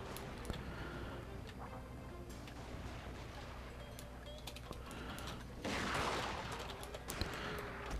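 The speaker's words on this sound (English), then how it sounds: "my heavy garrison is starting to fire on the enemy" Heavy garrison musket fire in Total War Shogun 2 crackles as scattered distant shots over a steady low battle rumble, with a brief louder burst of volley fire partway through.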